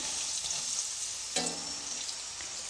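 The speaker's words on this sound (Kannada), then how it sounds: "ಇದನ್ನು ಬ್ರೌನ್ ಕಲರ್ ಬರೋವರೆಗೂ ಎಣ್ಣೆಯಲ್ಲಿ ಫ್ರೈ ಮಾಡಬೇಕು" Potato finger chips fry in hot oil with a constant bright sizzle, and a sudden louder burst of bubbling flares midway before settling back into a steady hiss.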